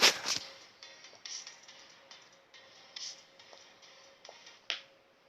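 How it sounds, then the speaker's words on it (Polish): Small sharp pops and clicks from a pop-it fidget toy sound at irregular intervals, close and fairly quiet, with a louder burst at the start and no talking. "jak słyszycie coś w tle, bo się bawię, popitam"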